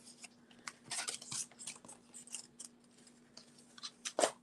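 Scissors snipping through paper while making a circle mini easel card, a series of quiet, close crisp cuts in irregular bursts with pauses between.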